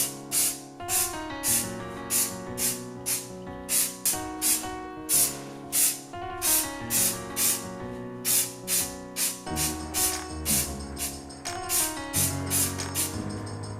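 Aerosol spray paint hisses in repeated short bursts as brake calipers are coated in a black base layer, close and loud with brief pauses between each spray.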